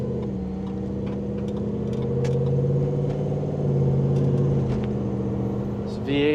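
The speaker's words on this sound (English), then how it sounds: "V8 has a great grumble, but it's not over the top." The V8 of a 1972 Trail Edition Bronco idles with a steady low grumble throughout, close and even, while a voice talks over it.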